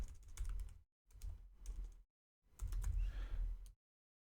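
Quiet computer keyboard typing in three separate runs of quick, soft clicking keystrokes with short pauses between, close up and alone with no voice.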